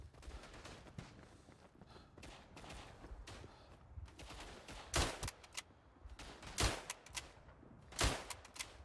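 Enemy gunfire in a video game, a soldier with infinite ammo firing steadily at middling distance, sharp louder bursts punching through around the fifth, seventh and eighth seconds over a continuous crackle of shots.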